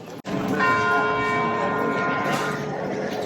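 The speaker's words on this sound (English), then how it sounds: "Church bells ringing." Church bells in Malaga, Spain ring with a sustained, resonant tone that rises after a brief dip and keeps humming with rich overtones, loud and fairly near, with a voice faintly underneath.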